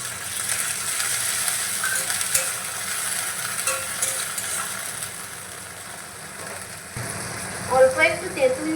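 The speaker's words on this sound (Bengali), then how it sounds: "নাড়িয়ে নিয়ে এবার আমি জল দিয়ে দিচ্ছি।" Onion, garlic and dried red chilies frying in a pan give a steady close sizzle with stirring scrapes, which change near the end as water is poured in and the hiss and bubbling shift.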